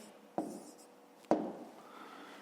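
Pen or pencil strokes write out a math solution by hand, with two sharp taps on the page and soft scratching between them. Everything sounds quiet and close.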